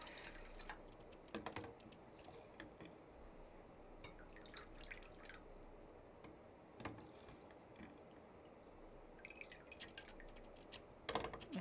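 Room-temperature dechlorinated water kept for insects is poured and dripped, with faint irregular trickles and drips alongside soft handling clatter at close range, and no talking.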